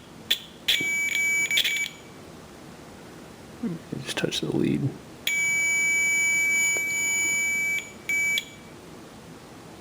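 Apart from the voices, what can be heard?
multimeter continuity beep testing speedometer circuit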